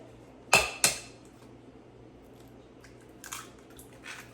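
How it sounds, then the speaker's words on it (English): Eggs cracked into a bowl in a kitchen, two sharp close taps in quick succession, followed by faint softer clinks and rustles, no talking. "take a couple of eggs, pop them in the bowl"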